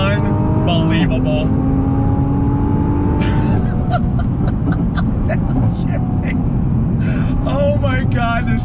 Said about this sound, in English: Mind-blowing, the acceleration of this thing.